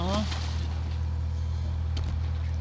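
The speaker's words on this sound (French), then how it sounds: "On est moteur ralenti." A sailboat's engine idling at low speed while under way near Agathonisi, a steady low hum throughout, with a brief voice at the start.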